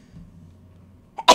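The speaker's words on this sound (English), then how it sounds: "I'm always sneezing or coughing." A single abrupt sneeze or cough bursts out near the end during a podcast recording, loud and close after a short faint lead-in, with only quiet room noise beforehand.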